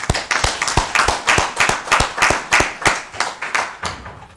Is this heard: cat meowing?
no